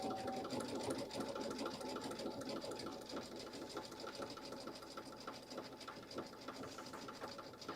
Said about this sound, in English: They said you're sewing it so expertly, Mary Lou.